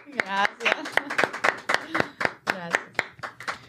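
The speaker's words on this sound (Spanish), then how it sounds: "Para usted, un fuerte aplauso." Sharp, evenly spaced hand claps from an audience ring out close and loud in a steady rhythm, with voices talking over the clapping throughout.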